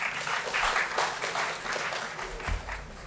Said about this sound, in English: Please give a big round of applause to Siddarth.